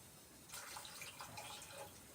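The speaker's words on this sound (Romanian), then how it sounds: "Și pun apă." Water is poured into a pot of carrots, a faint, splashy trickle lasting under two seconds after a quiet start.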